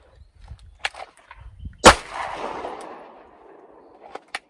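A single sharp pistol gunshot at a shooting practice session, loud and close, with a decaying echo that trails off afterward, preceded and followed by faint small clicks and handling noises.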